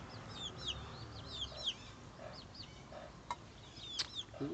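Chickens clucking and calling softly in the background, with scattered chirping fowl sounds coming and going over a low, noisy outdoor hum, fairly faint and somewhat distant.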